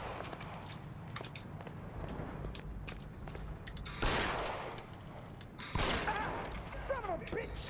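Gunfire in the L.A. Noire video game: a few sharp shots cut through a busy, muffled game mix. The loudest cracks land around the middle and near the end, with other game sounds underneath.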